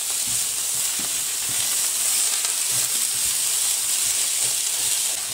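Julienned carrots sizzle steadily in a hot pan, a constant close hiss of frying with faint occasional stirring clicks.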